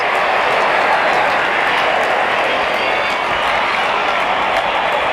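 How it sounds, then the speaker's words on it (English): Cricket stadium crowd applauding a batsman's fifty in a DC vs LSG match, a dense, steady wash of clapping and crowd noise throughout, loud and continuous. "Wonderful 50 and the crowd applauds."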